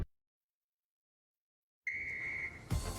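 A single sharp, steady whistle blast sounds after nearly two seconds of silence, followed by a burst of noise at the end.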